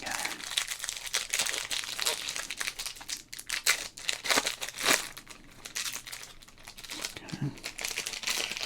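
A sports card pack wrapper torn open and crinkled close up, with dense crackling plastic crumpling and tearing throughout and a voice speaking briefly over it.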